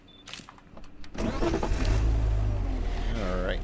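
A Phantom Gale muscle car in the video game Car Dealer Simulator starts up after a few faint clicks and settles into a loud, steady, deep engine rumble that keeps going to the end.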